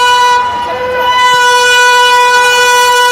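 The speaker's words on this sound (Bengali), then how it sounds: "ট্রেন সিটি মেরেছে" A train whistle blows in one long, steady, loud tone for the whole stretch, its stacked harmonic bands sounding close and unbroken, with a brief murmur of voices underneath near the start.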